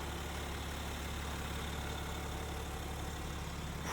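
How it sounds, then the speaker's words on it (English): A 2017 BMW X5 xDrive35d SUV with a 3-liter diesel engine idles in a steady, low, quiet hum, continuous and unbroken, with no voices over it. "The engine's pretty quiet."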